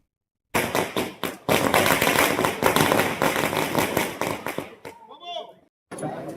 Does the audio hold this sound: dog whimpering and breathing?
no